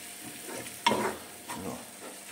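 A spoon stirs tripe stew with paprika and tomato paste in a pot, making a few soft scraping strokes over a quiet sizzle, with one sharper scrape near the start.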